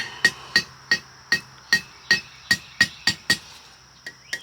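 Sharp, ringing hammer strikes on metal on an anvil fall in a steady rhythm, about a dozen blows from a single hammer, each with a bright metallic ping, close by.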